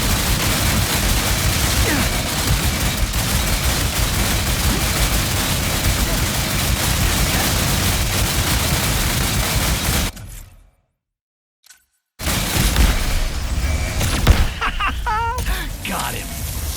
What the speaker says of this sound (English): Keep firing, Ratchet.